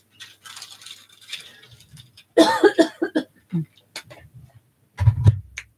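A few dry coughs close by, scattered between short stretches of quiet talking, with one heavier cough burst near the end.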